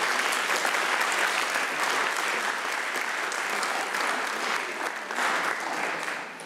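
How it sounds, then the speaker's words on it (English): Steady audience applause at a leadership talk, a dense wash of many hands clapping for several seconds before tapering off, with no speech over it. "Another round of applause."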